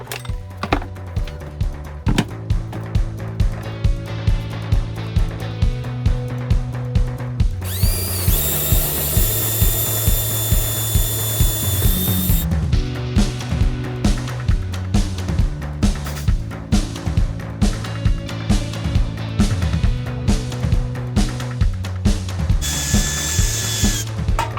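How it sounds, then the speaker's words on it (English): A power drill whirs in a few short bursts over a steady rhythmic background while drilling holes in a workshop shed, with a long, loud high-pitched run in the middle and a brief one near the end. "maybe I can drill some holes."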